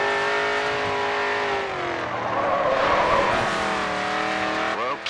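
A race car drifts around a corner in the Grid 2 video game, its engine droning in a loud sustained whine under a long rough tire squeal through the slide, then a quick rev rising at the end.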